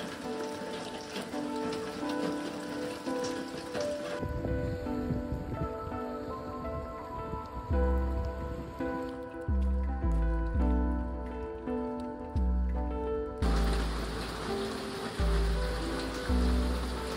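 Steady rain falls on a campsite along the Ouachita Trail in March, a close, dense patter on surfaces and foliage that runs throughout with no talking.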